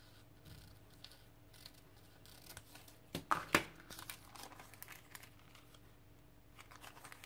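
Tissue paper is handled and crumpled for an art journal page, giving soft crinkles throughout with a couple of sharper, louder crunches in the middle, close by and without talk.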